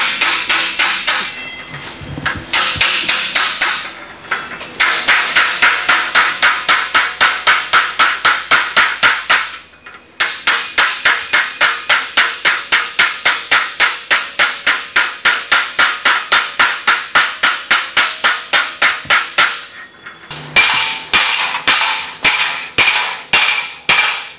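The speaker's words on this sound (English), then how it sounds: "we'll just hammer it on over and break it here" Rapid, ringing metal hammer blows strike a steel bar on an anvil over and over in long steady runs, loud and close, with brief pauses between bursts.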